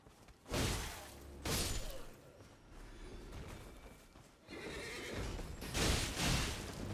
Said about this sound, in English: Managed to trample me with a horse.